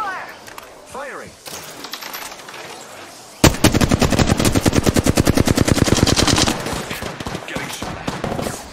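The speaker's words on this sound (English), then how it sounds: "Taking fire! Firing!" Automatic gunfire rattles in an Apex Legends battle royale match, a loud, rapid volley of shots bursting in suddenly and hammering on for several seconds after a quieter stretch of game sounds and a brief voice.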